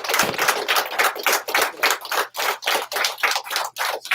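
Audience clapping at a cookout gathering: a steady run of sharp, dense claps fills the room at close range, fluctuating in intensity without pause and heard alone with no voices over it.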